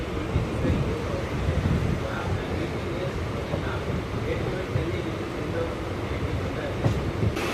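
A Chennai MRTS suburban train pulls out of Velachery railway station, running at ground level before rising onto the elevated line; a steady broad rumble of rails and carriage noise continues throughout with no pauses.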